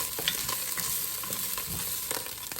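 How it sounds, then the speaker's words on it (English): Food frying in a little oil in a pan for a stockfish stew: a quiet, steady sizzle with soft scraping taps of stirring scattered through it. "I want to fry that a little bit in the oil here"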